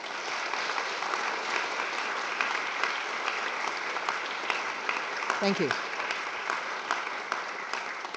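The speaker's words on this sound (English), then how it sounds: "Please give a round of applause to our core faculty." An audience applauds the core faculty at an evening Catholic spirituality event with sustained, even clapping throughout, and a brief spoken thanks rises over it partway through.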